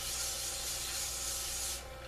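Hand sanding a turned pen blank with micro mesh, a close, steady hissing rub that holds for nearly two seconds and then tails off, with no talking.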